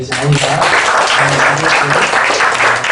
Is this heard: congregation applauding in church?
yes